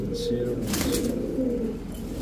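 A silver gola pigeon coos softly and steadily at close range, a low continuous murmur under faint background noise, with someone talking nearby.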